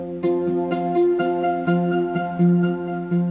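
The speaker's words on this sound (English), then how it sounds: "if you compare that to the uplift strings that I had earlier," Uplift strings synth layer playing a sustained chord progression with bright, shimmering plucked attacks on each change and a steady rhythm, clear and upfront with no speech.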